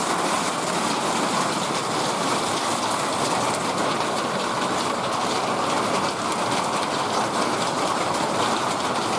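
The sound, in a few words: rain falling and running off a roof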